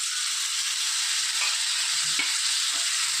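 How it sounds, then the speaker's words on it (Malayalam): Chopped tomato hitting a hot pan of egg puttu masala, giving a steady, loud broadband sizzle throughout with brief stirring scrapes, no voices. "ഒരു തക്കാളി അരിഞ്ഞു വെച്ചിട്ടുണ്ടായിരുന്നു അതും കൂടെ ചേർത്ത് കൊടുക്കാം"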